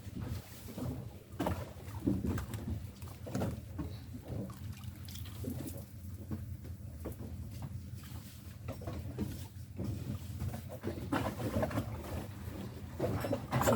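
Steady rain falling outdoors at night, a dense broadband patter with scattered louder drips and splashes, continuous and fairly close, with no voices.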